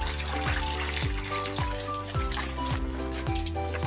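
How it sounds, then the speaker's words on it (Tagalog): Water trickling and splashing steadily as it is poured for racing pigeons at their loft, a continuous moderate pour with small rhythmic gurgles and no talking. "Bigyan natin tubig mga kalapatids."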